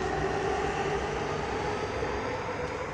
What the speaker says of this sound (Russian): Вот наша электричка поехала.